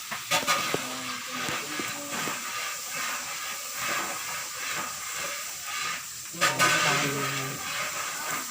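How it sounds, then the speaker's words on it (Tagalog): Steady hissing and bubbling of a pot of pork at a rolling boil, with faint clinks and a brief louder burst near the end. "Ayan kumukulo na siya."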